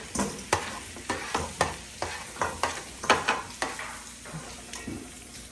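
Roasted potatoes tumbled back into a bowl and tossed, producing a steady series of sharp clattering knocks against the bowl with faint sizzle between them.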